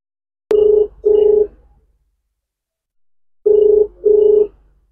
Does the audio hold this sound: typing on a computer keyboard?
no